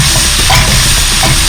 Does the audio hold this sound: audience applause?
no